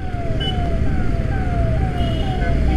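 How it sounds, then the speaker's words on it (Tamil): An ambulance siren wails in repeated falling sweeps as it passes on a road in Coimbatore, loud and steady over traffic rumble, heard from inside an Isuzu MU7, no talking. "நம்ம லைனில் தான் ஆம்புலன்ஸ் வருது ஒரு ஓரமாக நின்றுவோம்"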